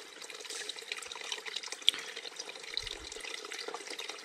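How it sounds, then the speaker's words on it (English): A thin trickle of water runs from a spring on the Appalachian Trail, making a steady, close splashing and dripping sound with small irregular drips and no talk. "just a little bit of a trickle, but it's just enough to get the water that we need"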